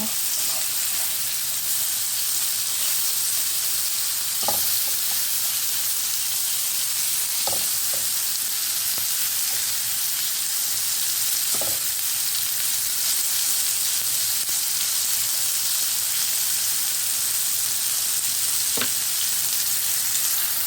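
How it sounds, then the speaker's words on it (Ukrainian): Mushrooms fry in a pan with a steady, even sizzle and hiss throughout, broken by a few soft clicks of stirring and no talking. "Наші грибочки обсмажилися"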